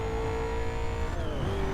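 A car driven fast gives a steady engine drone with tonal whine that dips in pitch near the end, heard from inside or close by, with no talking.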